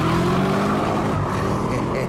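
A Chevrolet Camaro SS with a 6.2-litre V8 accelerating hard: a loud, steady engine roar that holds a rising tone before easing slightly, heard up close and alone.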